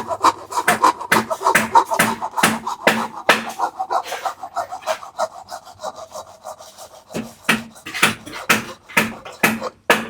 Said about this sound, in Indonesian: ternyata kita beli ini gergaji besi berguna juga